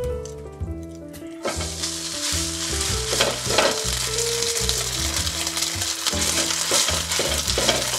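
Cooked rice spread in an even layer and frying in a pan with sesame oil and olive oil, a loud, steady sizzle that bursts up at the start, with background music playing underneath.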